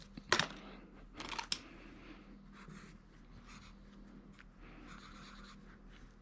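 A pen draws grapes on paper up close, with quiet scratching strokes, a few sharp taps and short scribbling bursts spread across otherwise soft room tone.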